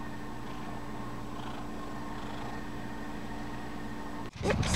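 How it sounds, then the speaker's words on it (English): A female cat purrs close up in a steady, quiet low rumble for about four seconds, ending in a brief rustle of handling. "You hear her purring?"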